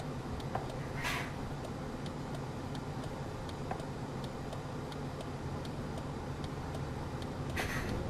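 City bus engine idling in the driving simulator OMSI 2, a steady low rumbling drone with faint regular ticking on top and a couple of brief hisses, heard alone without talking.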